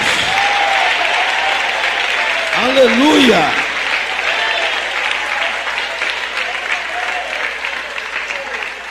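A church congregation claps in sustained applause, mixed with shouted voices and a voice raised in praise over the clapping.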